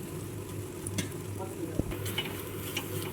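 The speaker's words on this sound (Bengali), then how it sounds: "দিয়ে সুন্দর করে নেড়ে চেড়ে আবারও কষিয়ে নেব এটাকে।" Fish cutlet masala with chopped tomato stir-fried in a pan, a steady close sizzle broken by a few scraping stirs and one sharp knock.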